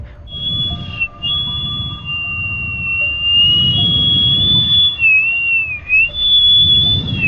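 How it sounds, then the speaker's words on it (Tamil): A man whistles a wavering, high tune as he approaches, in a tense horror scene about an exorcism. The steady whistle carries across the clip with brief breaks, over a low rumbling background, and no one speaks. "இந்த மாதிரி அவன் விசில் அடிச்சுக்கிட்டே வருவான்"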